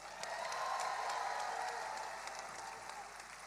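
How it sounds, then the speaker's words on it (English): A crowd at an outdoor Hands Off rally in Washington, DC applauds in a continuous, distant wash of clapping that holds steady and then tapers slightly, with no voices above it. "Give yourselves a round of applause."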